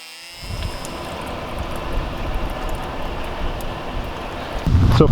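An engine fires and runs on brake cleaner at an abandoned racetrack, settling into a steady, loud, rough roar that swells slightly toward the end.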